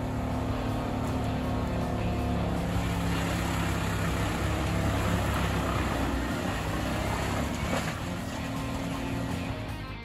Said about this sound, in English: The OP Ergo 993 wood chipper, mounted on a Volvo FH16 truck, is a formidable force in wood processing operations.